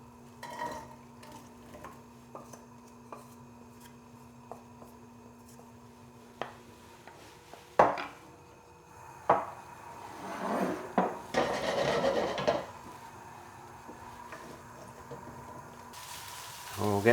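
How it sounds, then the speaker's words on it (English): Chopped onions tipped into a pan and stirred for a curry, with quiet scraping, knocks and a brief soft sizzle-like rustle amid scattered utensil taps, low and close. "And then we're going to put our chopped onions in."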